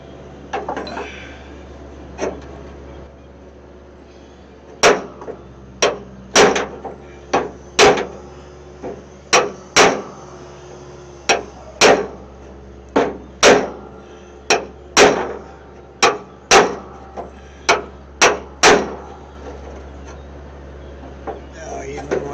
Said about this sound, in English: So I can probably hammer it out now that it's cut all the way through.